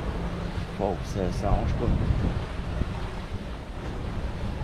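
Waves slosh and rush against a sailing boat at sea during a family crossing, making a continuous broad wash under heavy wind noise on the microphone, with a brief spoken exclamation near the start.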